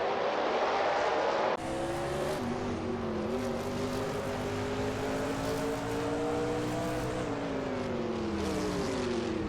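NASCAR stock cars racing at Circuit of the Americas in a racing video game, engines droning loud and steady with close, layered pitch shifts as several cars run together, one engine dropping in and taking over after a brief lull.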